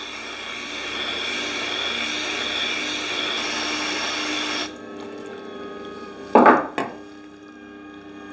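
A Scheppach Tiger 3000VS wet grinder hums steadily as a blade is sharpened on its smooth-side grindstone, the drone dropping away midway, followed by a couple of sharp knocks.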